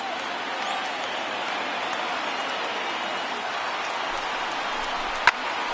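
A baseball stadium crowd of over 28,000 in MLB The Show 19 roars and cheers in a steady broad wash, with one sharp crack near the end.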